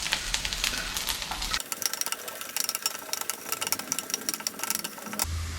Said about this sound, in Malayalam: ഒരു സ്പൂൺ കടുക് ചേർക്കുക കടുക് പൊട്ടുന്നുണ്ട്